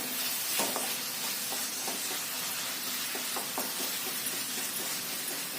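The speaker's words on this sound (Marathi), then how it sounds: "थोडस कांदा परतून घेतल्यानंतर कांदा आता परतला गेलाय त्यामध्ये एक टोमॅटो बारीक चिरून घालायचं" Onion and finely chopped tomato frying in a pan for dal khichdi, a steady broadband sizzle with repeated light clicks of stirring running throughout, moderately loud and close, with no voices.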